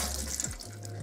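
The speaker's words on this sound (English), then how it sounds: "Do a little bit of water to rinse off that." Tap water runs steadily over hands being rinsed at a sink, a continuous close splash with small shifts in flow and no talking.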